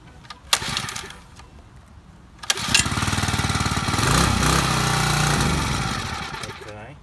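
A Champion 7-ton log splitter's small gas engine starting up: sharp pull-cord clicks, then the engine catches and runs with a loud, rapid chugging putter that holds steady for several seconds, close to the microphone.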